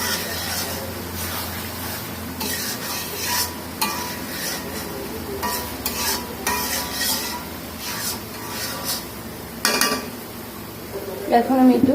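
Beef bhuna being stirred in a pan, a spoon scraping and clanking against the metal in repeated strokes over a steady close sizzle, with a louder knock near the end.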